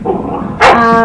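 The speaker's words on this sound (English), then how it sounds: "The dogs are just going to be dogs." Dogs, including a puppy, give one sharp, close bark indoors after a low, muffled stretch, and a drawn-out whining yelp follows.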